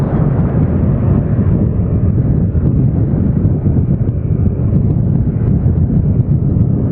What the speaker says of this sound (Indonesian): Anginnya sangat kencang sekali untuk saat ini di Kota Kediri.